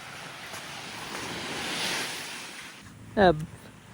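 Ocean waves wash onto a sandy seashore at Dipaculao, Aurora, a broad steady surf swell with wind noise, then a brief louder bump near the end.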